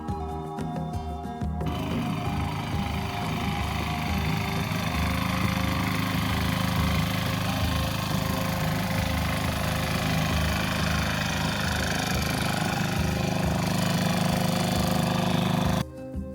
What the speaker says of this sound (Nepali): जहाँ मेसिनको चर्को आवाजले गर्दा खेताला बाउसे सबै मौन भई काम गरिरहेका देखिन्थे